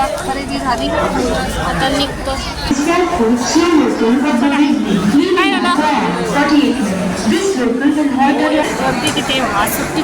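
Busy street crowd on a Sunday just outside a shopping mall, a dense babble of many overlapping voices close by with constant bustle, one voice rising above the hubbub at times.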